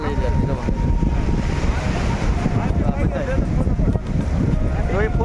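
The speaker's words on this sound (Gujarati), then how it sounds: "જુઓ પાણી, જુઓ પાણી, જુઓ જોરદાર પાણી આવી રહ્યું છે।" Strong sea waves roll in at Shivrajpur beach near Dwarka, a loud, continuous surging roar with heavy wind buffeting the microphone and faint voices of people on the shore.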